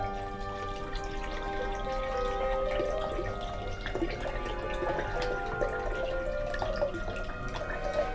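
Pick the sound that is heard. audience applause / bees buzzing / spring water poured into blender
spring water poured into blender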